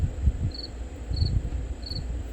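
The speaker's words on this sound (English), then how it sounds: "But I like the crickets." Crickets chirp in three short, evenly spaced bursts over a low, rumbling background hum.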